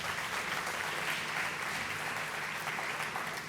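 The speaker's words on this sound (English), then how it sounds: "A big round of applause for them." An audience applauds the judges at a 2013 harmony singing competition, a steady, dense wash of clapping filling the room throughout at moderate level with no voices over it.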